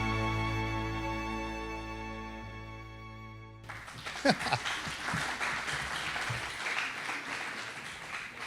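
Audience applause at an investor dinner begins partway through, after a sustained musical tone. The clapping is moderate and slightly distant, with some voices mixed in.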